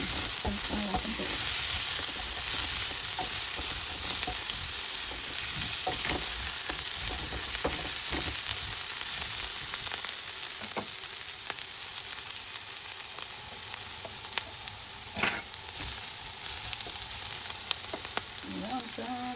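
Potato and carrot pieces fry in a nonstick pan with a steady, close, fairly loud sizzle that runs the whole time, broken by a few sharp crackles and light stirring clinks.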